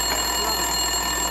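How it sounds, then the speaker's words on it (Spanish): A telephone rings in the video game Max Payne 2, a continuous bright electronic trill holding steady throughout, fairly loud and alone without any voices. "El teléfono de Winterson estaba sonando,"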